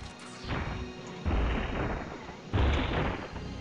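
Missile strikes in the space combat game Space Pirates and Zombies land as two heavy, booming impacts, each a sudden loud burst that rumbles on for about a second over a constant background hum.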